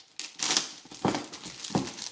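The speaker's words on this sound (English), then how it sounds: "Now let's go ahead and open up the keyboard and see what this looks like." Plastic packaging crinkles as a boxed Lenovo ThinkCentre keyboard is unwrapped, with three close bursts of rustling and crumpling spread over about two seconds.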